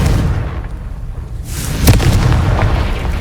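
A Confringo explosion spell detonates in a Harry Potter-style video game, a loud deep boom with a rumbling blast tail that swells partway through and stays heavy to the end, with no voices.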